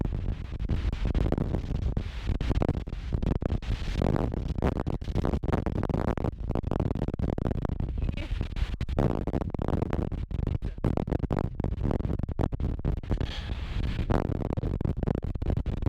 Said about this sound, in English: The wind was just blowing so hard it tried to take my beanie off my head